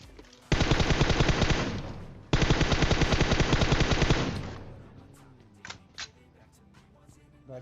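Two long bursts of rapid automatic gunfire in PUBG Mobile, loud and close, followed by a few scattered shots and quieter sounds.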